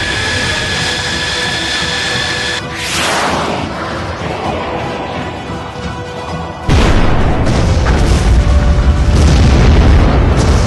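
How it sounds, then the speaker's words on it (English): A fighter jet's missile firing and striking a ground target in a combat action game: a loud rushing roar over steady jet engine noise, then a heavy booming explosion that lingers as a dense rumble. "I've got a missile lock. Firing. Fox 2."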